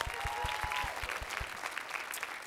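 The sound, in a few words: audience applause at comedy theater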